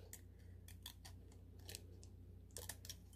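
Paper scissors trim the edge of a Happy Planner page in quick, quiet, close snips spaced irregularly, with a steady low hum underneath and no talking.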